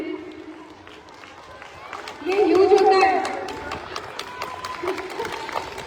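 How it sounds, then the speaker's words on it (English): A crowd at a children's sports event claps and cheers for the young champions, a swelling wash of applause that peaks midway and then eases, with a voice speaking over it. "Please keep clapping"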